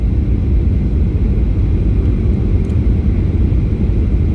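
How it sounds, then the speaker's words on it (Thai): A loud, steady cabin roar from a passenger airplane landing on a flight over Denmark, a dense low rumble that holds evenly throughout. "ลงแล้วค่ะ ลงแล้วค่ะ ลงแล้วค่ะ แลนด์นะเขาเรียกแลนด์นะแลนดิ้ง แลนด์แล้วค่ะ"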